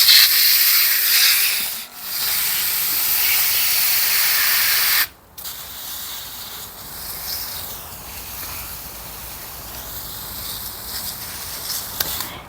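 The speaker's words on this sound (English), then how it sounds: "Now I'm back to watering the Clematis armandii" Water from a hose spraying onto a Clematis armandii in a pot, a loud steady hiss that cuts out briefly twice, then continues as a softer, rougher splashing rush, close by.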